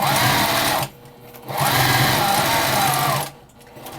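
A sewing machine runs loud and close while stitching a quilted potholder, with two bursts of rapid, even stitching broken by brief pauses.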